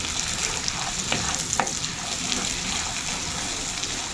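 Sliced onions sizzle steadily in melted butter in a pan while cooking sisig, a dense continuous hiss with faint stirring clicks throughout.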